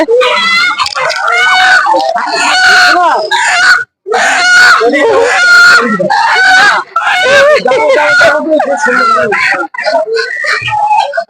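Ducks and chickens at a busy village poultry market, with squawks and crowing-like calls mixed into constant loud chatter of people bargaining.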